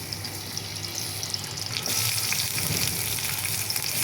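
Onion and green chili drop into hot oil, a steady hiss that jumps to a louder, denser sizzle partway through and carries on evenly; no talking.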